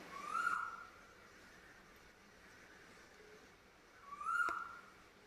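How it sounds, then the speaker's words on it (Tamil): Asian koel calling in a garden, two clear drawn-out whistled calls spaced a few seconds apart, faint and somewhat distant over quiet background. "எப்போவுமே எங்கள் தோட்டத்தில் குயில் சத்தம் கேட்டுக்கிட்டே இருக்கும்."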